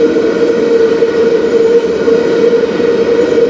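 Locomotives roll past on the Strathroy Subdivision, giving off a steady, loud high-pitched scream over a continuous mechanical rumble that holds for the whole stretch.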